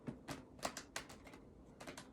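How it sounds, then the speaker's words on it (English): A tarot card deck is split in two and given a loose riffle shuffle, producing bursts of papery flutters and soft snaps, several quick clusters in an uneven rhythm, close and fairly quiet. "split it in two, and then I do a loose fall shuffle"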